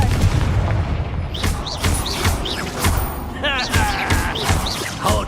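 In a video game, Confringo spell explosions go off as booming blasts with sharp whooshing bursts, several in quick succession, loud and close, with a voice shouting over the action.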